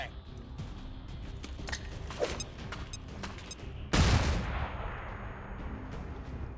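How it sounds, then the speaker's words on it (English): A flashbang grenade goes off in XCOM 2 with a sudden loud bang, then a bright ringing hiss that fades slowly. Before it come scattered game clicks and short bursts under a busy mix, with talk in places. "We're definitely going to flashbang it."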